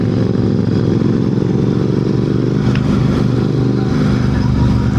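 A motorcycle engine drones steadily up close in Phobjikha Valley, with a brief clattering jolt partway through as the bike drops into a pothole.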